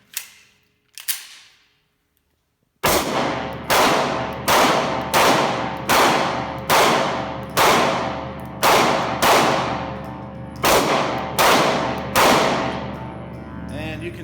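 A Glock 26 pistol is fired at a range in a steady string of about a dozen sharp, loud shots at an even rhythm, after two isolated reports at the start.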